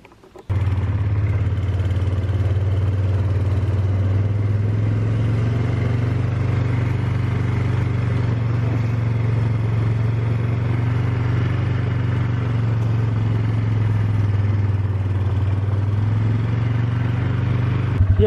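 A motorcycle rides along a freshly cleared trail, its engine a steady, loud low drone that holds almost unchanged for the whole stretch, close up, with slight clatter and no speech.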